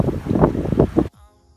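A sailboat cruising at sea gives broad rushing wind and water noise with gusty swells before cutting off abruptly, leaving faint low residue.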